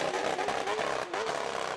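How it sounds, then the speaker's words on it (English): A Formula 1 car's blown exhaust from a played recording, a brief loud raspy engine whine holding steady with a short dip, no voices over it. "How the Formula 1 blown exhaust sound like."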